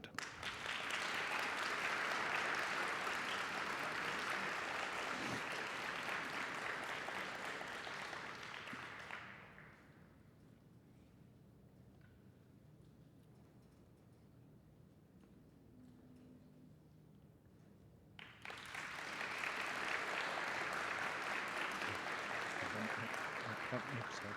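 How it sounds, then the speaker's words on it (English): An audience at an honors day ceremony claps in a full, steady round of applause that drops to a quiet lull midway, then swells back to an equally strong second burst of clapping. "Let's give another round of applause for our student scholars."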